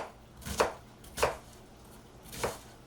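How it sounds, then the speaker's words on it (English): A knife chops onions on a cutting board: three quiet, separate thuds spaced about a second apart, close by. "Cutting some onions."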